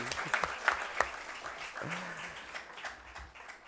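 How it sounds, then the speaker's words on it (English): An audience at a book launch event applauds the chief guest with a dense, sustained crowd clapping that peaks early and tapers slowly, with a few voices murmuring underneath. "A big round of applause for him."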